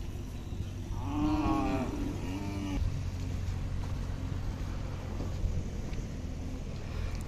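Khillar bulls at a cattle market held for Kartik Shuddha Ekadashi in Pandharpur, one deep drawn-out moo rising and falling over a steady background of engine rumble and crowd noise, with a shorter low call just after.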